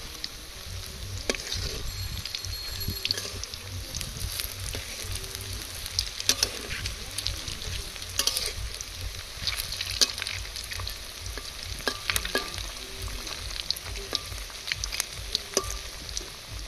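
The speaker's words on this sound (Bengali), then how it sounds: "ডিমগুলো হালকা লাল লাল করে ভেজে নেব।" Eggs frying in a pan for a potato-ring snack, a steady close sizzle and crackle running throughout, with scattered brief clinks and scrapes of stirring.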